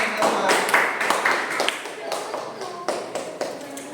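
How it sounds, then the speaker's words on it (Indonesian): A class of elementary schoolchildren clap their hands in a short burst of scattered, sharp claps that fade and return unevenly, close and fairly loud, with a few voices talking over it. "Tepuk tangan."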